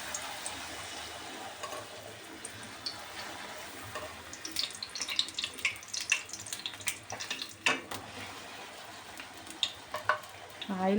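Pani puri puris frying in shallow oil, a steady crackling sizzle with scattered pops and occasional faint kitchen clatter, close and moderately loud with no talking.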